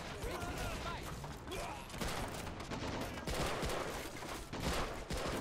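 Dense, sustained gunfire from a World War II Pacific beach assault in The Rising Sun game mod, rapid overlapping rifle and machine-gun bursts crackling nonstop at close range, with voices shouting under the barrage.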